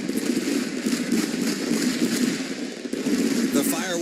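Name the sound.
fireworks after a dirt track race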